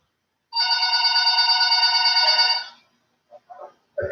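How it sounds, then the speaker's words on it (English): Telephone sitting on a store counter rings once with a long, steady electronic trill lasting about two seconds, close and clear in a quiet room, followed by a few faint thuds and a brief voice at the end. "the phone on the counter rang."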